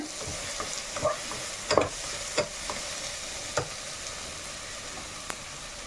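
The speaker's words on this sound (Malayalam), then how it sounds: "ഇഞ്ചിയുടെയും വെളുത്തുള്ളിയൊക്കെ പച്ചച്ചവയൊക്കെ മണമൊക്കെ ഒന്ന് മാറുമ്പോൾ നമുക്ക് നമ്മുടെ ചിക്കൻ ഇട്ട് കൊടുക്കാവേ" One kilo of chicken goes into a pan of frying ginger and garlic, giving a steady close sizzle with intermittent scraping stirs and clinks of a spoon throughout.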